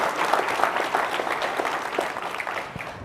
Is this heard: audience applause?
yes